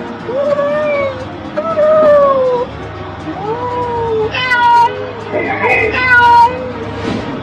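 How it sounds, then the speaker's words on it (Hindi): Cartoon cat meowing several times in drawn-out, wavering calls, loud and close, with cartoon character voices talking around and over the meows. "रोड पर एक बिल्ली रास्ता पार कर रही है।"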